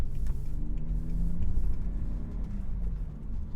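A manual BMW 530xi wagon drives and turns onto a road, heard from inside as a steady low engine and road rumble with a faint rising engine tone, no talking.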